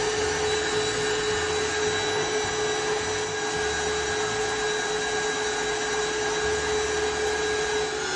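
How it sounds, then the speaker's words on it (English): An electric mixer whips egg whites on high speed for buttercream frosting, giving a steady loud motor whir that holds unbroken throughout. "So I raise the speed to high and we'll beat until we see medium peaks form."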